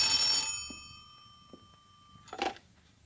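An old telephone rings with a bright, sustained bell tone that stops, followed by a few faint clicks and a short rustle as the receiver is picked up.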